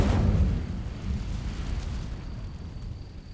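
The Incendio fire spell cast in Hogwarts Legacy, a sudden fiery burst that flares loudly at the start and then rumbles and crackles down into a fading roar.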